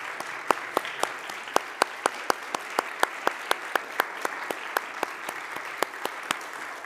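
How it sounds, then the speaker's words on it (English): An audience at a Kabbalah Shabbat service applauds veterans, a steady round of clapping with sharp individual claps standing out, moderately loud, with no talk. "so that we can give you at least a round of applause"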